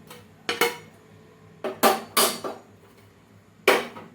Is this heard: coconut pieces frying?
yes